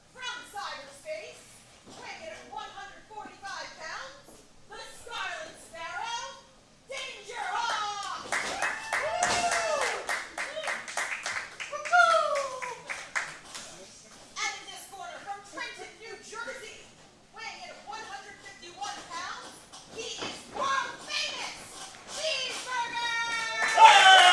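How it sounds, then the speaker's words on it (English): Crowd at a wrestling-style Labor of Love Citywide Championship match cheers and claps for a competitor in a colorful jacket, with scattered claps, whoops and children's voices rising and falling over about 24 seconds, swelling louder near the end. "Big pop from the crowd for Cheeseburger."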